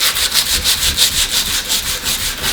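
Hand sanding of an old wooden furniture piece, a loud, close rhythmic scratching as the abrasive is rubbed back and forth in quick regular strokes, with no talking.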